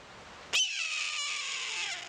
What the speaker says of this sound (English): the typical eagle sound you hear in the movies, but it's actually a red-tailed hawk